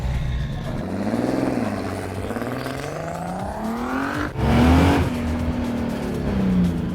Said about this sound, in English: It does great burnouts.